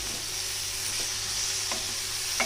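Vegetables and greens for a Sindhi saee bhaji sauté in hot oil, giving a steady close sizzle with occasional soft stirring scrapes and no talk.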